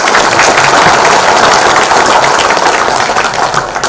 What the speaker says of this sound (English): we have a thunderous round of applause for all our speakers